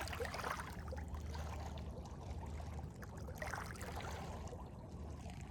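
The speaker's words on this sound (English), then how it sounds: "The sound of the water." Water washing and trickling over the rocks of a scenic rocky beach, a steady, fairly loud wash with gentle surges, heard alone without any voices.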